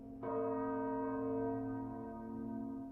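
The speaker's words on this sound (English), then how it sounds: "That's a cast iron bell. That's right. And you can hear it resonate." A cast iron church bell is struck once and rings on with a long, resonant, steady hum that slowly fades, heard alone and close.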